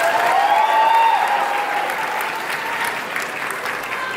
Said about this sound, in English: applause for Minnesota Junoon.